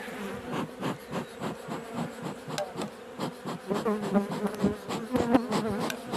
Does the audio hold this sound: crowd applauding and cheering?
no